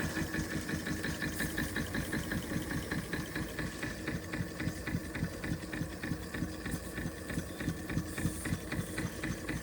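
Empire B42 model steam engine running under steam, a rapid, steady mechanical chuffing and clatter with even rhythm, close and moderately loud, no talk.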